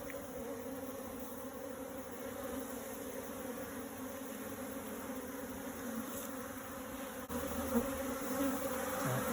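A dense, continuous drone of many African honeybees buzzing close by during a swarm capture, steady throughout with slight swells in loudness.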